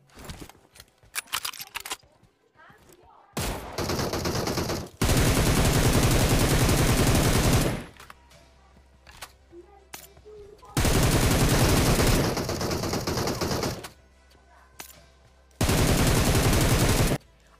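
Sniper and automatic gunfire in PUBG Mobile come as a few sharp isolated shots, then long loud sustained bursts of rapid fire separated by quieter gaps, with no talk.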